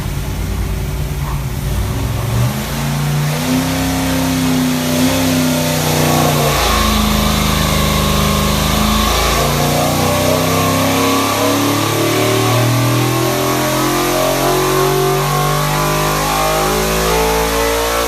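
A Ford 408 stroker V8 fitted with AFR 205 CNC cylinder heads roars on an engine dyno, its loud, continuous revving climbing and settling in pitch over eighteen seconds with no voices.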